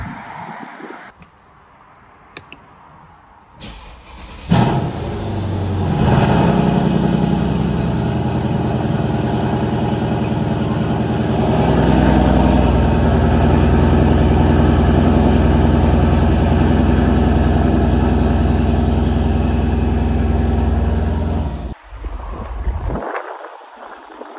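A 2015 Mercedes E63 AMG engine fires up from cold with a sharp burst, then settles into a loud, steady rumbling idle that holds for many seconds before cutting off.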